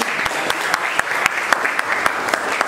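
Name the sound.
class applauding a student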